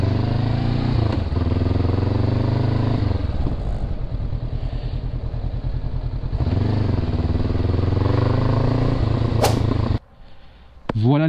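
A Honda CBR 500 R motorcycle pulls away, its engine droning loud and close with rising and falling revs through gear changes, then the sound cuts down near the end.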